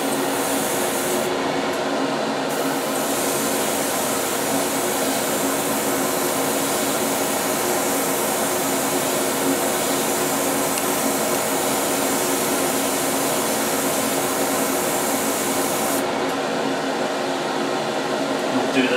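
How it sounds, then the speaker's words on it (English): Air compressor for an airbrush running steadily, a constant loud hum and hiss that continues without a break across the whole stretch, with no talk over it. "Oh, turn on your compressor."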